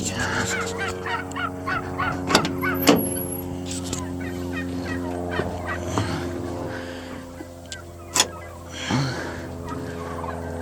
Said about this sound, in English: Oh, the turkeys are coming.